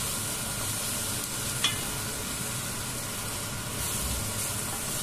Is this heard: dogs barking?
no